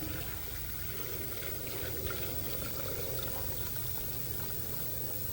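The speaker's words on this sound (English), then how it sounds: "I will continue adding coolant." Coolant pouring into the cooling system of a 2015 Jeep Grand Cherokee 3.6 V6 after a water pump replacement, engine running with the heat on; a steady, continuous liquid wash with a constant background hum, no talk.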